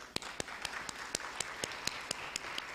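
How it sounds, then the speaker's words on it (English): Steady, evenly spaced claps ring out one at a time, sounding like a single person clapping a slow beat at a professional development gathering, fairly faint and unaccompanied by voices. "Come, clap yourselves."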